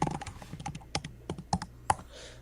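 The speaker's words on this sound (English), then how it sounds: "Oh, that's like my laptop keyboard." Laptop keyboard typing during a live coding session, a run of quick, irregular key clicks with a few sharper, louder strikes, close and clear with no talking over it.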